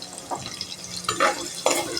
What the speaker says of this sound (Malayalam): വെളുത്തുള്ളി ഒരു ചെറിയ ബ്രൗൺ കളറാകുമ്പോൾ നമുക്ക് പക്ഷേ എണ്ണ തെറിച്ച് വരുന്നു കേട്ടോ